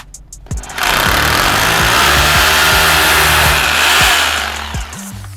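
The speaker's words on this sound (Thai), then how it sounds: "เตรียมสว่านกระแทกไปเจาะผนังปูนกันนะครับ" A loud hammer drill starts up and grinds steadily into a concrete wall for about four seconds with a rattling, hammering buzz, then winds down and stops.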